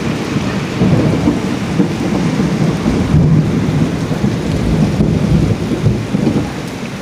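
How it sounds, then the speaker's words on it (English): A heavy rainstorm pours steadily while low thunder rumbles roll through, a dense continuous wash of rain close by with no voices. "Ooh, see that thunder?"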